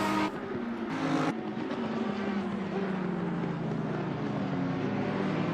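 GT3 race cars, a Lexus and McLarens, in a Spa racing game: a high-revving engine drone held steady and loud with pitch shifting through gear changes and a brief lift near the start, alone without talk.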